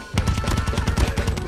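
Rapid automatic gunfire from the mobile shooter game Call of Duty Mobile rattles out in a fast, even burst of a dozen or so loud shots, close and dominant with no talk over it.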